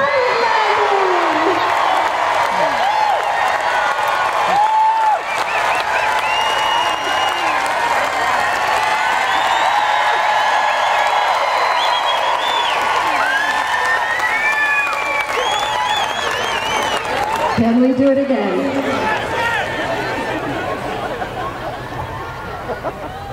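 A crowd at Atlanta Motor Speedway cheers, whoops and applauds as a skydiver comes in to land, a loud, sustained roar of voices with individual shouts rising over it and an announcer-style voice mixed in.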